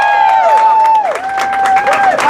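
Crowd at an outdoor vigil cheering and whooping loudly, a sustained high whistle-like voice held over a steady wash of clapping and shouts throughout.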